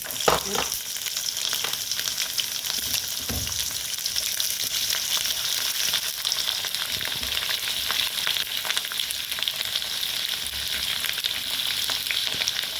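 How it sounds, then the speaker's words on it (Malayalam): Mustard seeds splutter in hot oil for an Angamaly-style bitter gourd pickle, making a steady bright hiss dotted with sharp pops and crackles that continue throughout without any voices. "കടുക് ഇട്ട് കൊടുക്കാം"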